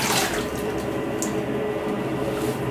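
A bathroom tap runs steadily into a sink while a razor is rinsed during a wet shave, a close, loud, continuous rush of water with a slight splash near the start.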